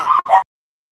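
Two quick sharp barks from a dog indoors, loud and close, then silence.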